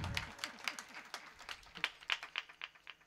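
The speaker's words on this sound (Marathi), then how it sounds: "एकदा दोघांकरता जोरदार टाळ्या वाजवा" At a Marathi kirtan, an audience claps in quick, uneven applause, fairly faint and steady over a few seconds with a low murmur beneath.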